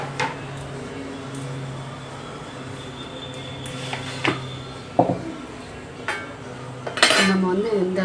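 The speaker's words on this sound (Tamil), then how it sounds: "மாற்றிட்டு இப்போ கடாயை வச்சுக்கலாம்" A kadai pan is set on a home kitchen stove during South Indian cooking, with sharp metallic clanks and clinks of pots and cutlery over a steady background hum, close by and sparse.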